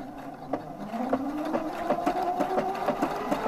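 An Opal 670 sewing machine runs steadily, stitching lettering onto ribbon laid over fabric, its motor whirring with a regular rapid needle clatter close by, with no talking.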